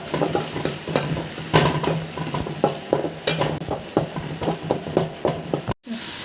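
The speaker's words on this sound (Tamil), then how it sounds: "இது நல்லா வந்து கோல்டன் ப்ரௌன் வர வரைக்கும் நம்ம வதக்கிக்கலாம்." Onions sauté in hot oil for chicken chukka, a steady sizzle and frying hiss under repeated spoon scrapes and stirring knocks against the pan, close and continuous until a brief cut near the end.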